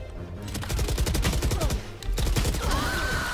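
Rapid gunfire from jump shooting in the Valorant video game, a dense burst of sharp shots in two quick volleys separated by a brief pause, loud and close, with no talking.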